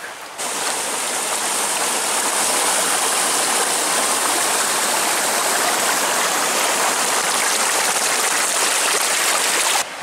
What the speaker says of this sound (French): On s'approche gentiment de la cascade